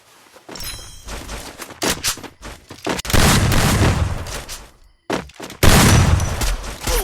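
Rapid bursts of gunfire from a shooting video game, loud and close, firing in clustered volleys separated by short pauses, with heavy booming shots across the stretch and no talking.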